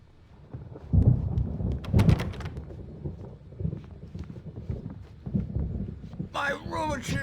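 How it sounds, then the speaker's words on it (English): Rumbling thunder from an approaching storm in the video game Alan Wake, low booms rolling in and out with a sharper crack near the end, while a voice talks over it. "There's a storm coming. Oh, what a storm."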